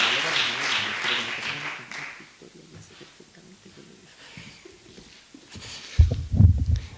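Audience applause for a speaker at an academic colloquium: a burst of many hands clapping that fades away within about two seconds, followed by quiet room sounds, a few taps and a voice near the end.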